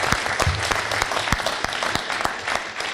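A room of alumni-event attendees applauds the moderator, steady clapping with a few sharp, close individual claps standing out against the dense crowd sound.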